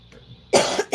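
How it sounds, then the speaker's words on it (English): Two sharp, close coughs burst out in quick succession after a moment of near quiet. "I'm having a coughing fit"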